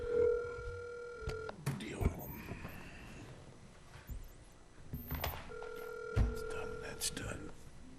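A phone call is placed during a zoning board meeting, with a few steady dial and ring tones coming through between sharp handling thumps and clicks as people talk quietly in the room.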